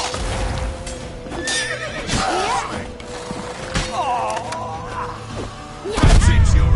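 Horse in The Witcher 3 whinnies several times with clopping hooves and thuds, fairly close and loud, amid game ambience and a heavier rumble near the end.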